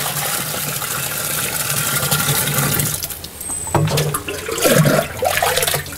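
Rainwater from a gutter on a lean-to roof pours straight into a bucket, a steady rushing splash that briefly thins out midway, then returns with gurgling, bubbling water as the bucket fills.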